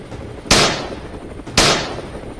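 Two sharp gunshots from helicopter hunters ring out about a second apart, each with a loud crack that trails off into a decaying echo.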